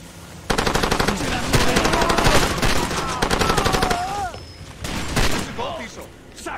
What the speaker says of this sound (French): Le nombre de balles que j'ai tirées sur les loustiques, ils se relèvent.